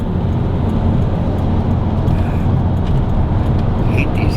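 A four-cylinder car engine runs steadily while driving, a continuous low drone mixed with road and traffic noise, loud and close throughout.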